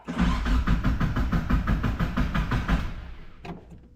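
An NB Miata engine cranking, a rhythmic churning starter sound that pulses steadily for about three seconds and then cuts off, followed by a short click.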